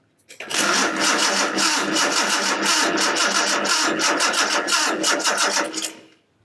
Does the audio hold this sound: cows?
no